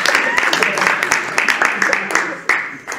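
Lively clapping from a library audience at a hypnotist's show, loud and close with rapid, uneven claps from a modest group, fading a little near the end.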